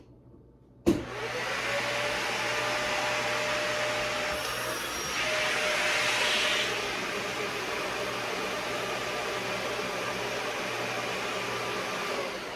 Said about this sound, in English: plug the vacuum up, hurry up